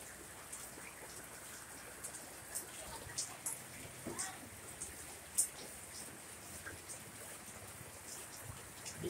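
Continuous heavy rain falling outdoors during flooding, a soft, steady patter with scattered sharper drop hits across the whole stretch, fairly faint and uninterrupted.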